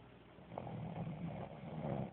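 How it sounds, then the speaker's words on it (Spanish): Drunk man snoring while asleep, a low rough breathy snore that rises and falls through two slow breaths, close and fairly quiet. "Escuchen el sonido de su ronquido."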